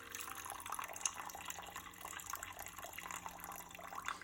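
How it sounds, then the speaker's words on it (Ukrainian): Faint trickling and splashing of water pouring out steadily as it is drained from jars of cucumbers for pickling, quiet and close, with no talking. "Ми зливаємо нашу першу водичку з огірків."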